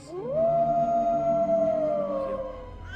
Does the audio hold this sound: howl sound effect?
yes